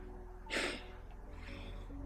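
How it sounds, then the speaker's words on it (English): A person breathes heavily after exercise, one loud close gasping breath followed by softer exhalations over a steady low background hum. "you see that I'm breathing pretty heavily still"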